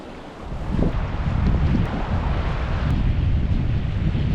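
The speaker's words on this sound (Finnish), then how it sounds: "Se oli niin kova se merenkäynti, että se kuului sinne parkkipaikalle" Rough sea waves crash and churn under strong gusting storm wind of about 20 m/s that buffets the microphone, a loud steady roar throughout.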